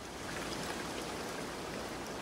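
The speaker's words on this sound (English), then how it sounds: "the water is a little bit loud" Flowing water in the video game Project Mist, a steady, fairly loud broadband rush like a stream or small waterfall, continuous with no speech.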